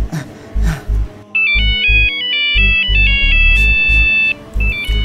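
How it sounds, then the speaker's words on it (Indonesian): A mobile phone in an Indonesian cartoon plays a loud, bright melodic ringtone of repeating electronic notes, with thumping low sounds before and under it. "HP-mu bunyi tuh. HP-mu bunyi."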